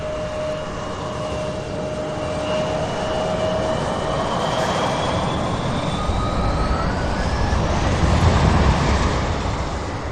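A plane taxiing out of a maintenance hangar at SDF airport in Louisville, Kentucky, gives a steady, fairly loud engine roar with rising and falling whine tones across the whole stretch, with no voices.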